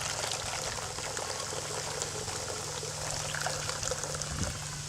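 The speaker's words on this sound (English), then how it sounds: "this is the second baking soda solution. Just want to show you what, it's still bubbling like crazy." Baking soda solution fizzing steadily inside the cells of a lead acid battery during restoration, a continuous close hiss of bubbling with a low steady hum underneath.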